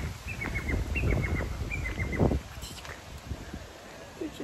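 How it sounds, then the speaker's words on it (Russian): Short, bright bird chirps outdoors, a few repeated calls over rustling wind and handling noise, with someone speaking nearby. "Птичка."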